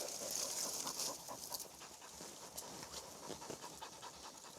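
A dog pants fast and steady after fetching, close and continuous with faint breathy rasps and no talk.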